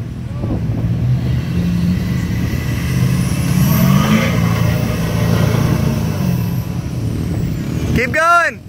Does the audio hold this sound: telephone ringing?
no